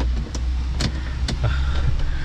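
A car creeps forward with a low engine hum, punctuated by a few sharp clicks and knocks, close by and fairly quiet, with no one talking.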